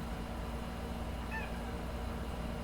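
A house cat lets out a single short, faint meow partway through, over a steady low background hum.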